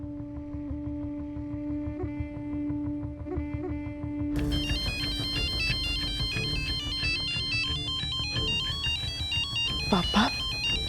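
A phone ringtone plays as a call goes out, a steady repeating melodic tone heard clearly under background music that swells in partway through, with light talk mixed in.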